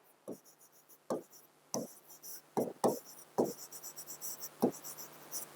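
A teacher writes a table heading by hand, with a series of sharp, separate scratchy strokes at an irregular pace, close and clear, over a faint steady hum.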